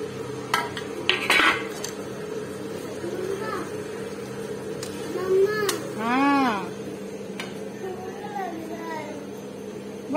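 Paneer is added to a tomato gravy in a pan and stirred. A metal spoon scrapes and clinks against the pan in scattered bursts while a voice talks over it.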